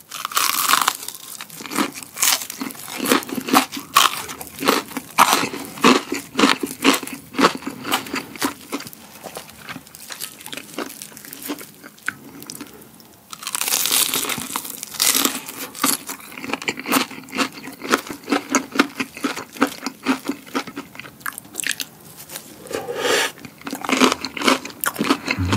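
Crispy fried chicken breast with a potato-based batter and tomato seasoning bitten and chewed close up, with repeated loud crunches and crackles in an irregular rhythm and brief pauses, no talking.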